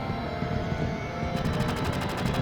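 Fireworks go off in Final Fantasy VII: a steady, dense roar is joined partway through by a rapid run of evenly spaced sharp crackling bursts that keep repeating to the end.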